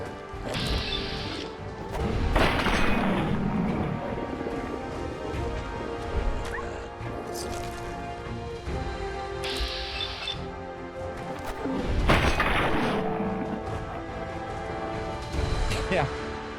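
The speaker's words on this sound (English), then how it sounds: "there's a lot of gunshots going off" Sharp, crashing bursts of video game gunfire erupt in loud clusters, mixed with mechanical clatter and continuous talking underneath.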